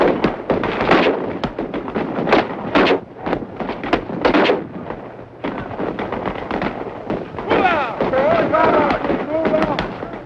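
Live-ammunition gunfire during a 1969 US Army basic training close-combat exercise, with five-man fire teams on a pockmarked hill on a military reservation: loud, close bursts of shots in quick succession, followed by a voice.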